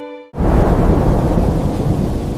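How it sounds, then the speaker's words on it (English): After a brief faint tone, a heavy crash of thunder breaks in and rolls on over dense, steady rain. "It is raining outside."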